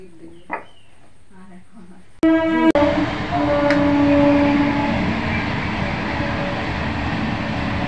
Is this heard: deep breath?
no